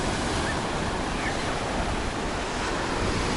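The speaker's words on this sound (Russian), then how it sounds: "волна была сильная" Strong sea waves wash steadily onto a beach of crushed shells mixed with sand on the Bugaz spit, a constant loud roar of surf with wind rushing across the microphone.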